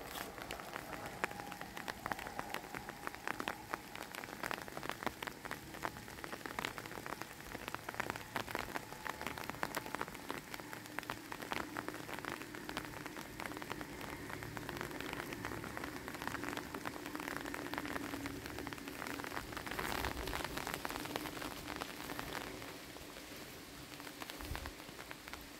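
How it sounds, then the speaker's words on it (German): Rain falls steadily on a hiking trail along the Altmühltal panorama path between Dollnstein and Eichstätt in October, a constant close patter with no talk. "es regnet leider"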